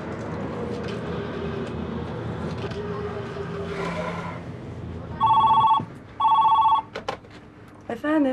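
A telephone rings indoors in two loud, evenly spaced electronic bursts following quieter conversation, with voices and small movement sounds around it.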